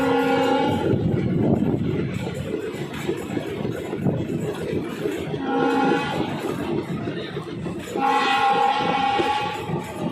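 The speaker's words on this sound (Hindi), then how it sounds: "Train is arriving at Panipat Junction railway station." A train, the Delhi Fazilka Intercity Express, pulls into Panipat Junction railway station with a loud, continuous rolling rumble, overlaid by sustained horn-like tonal blasts near the middle and again toward the end.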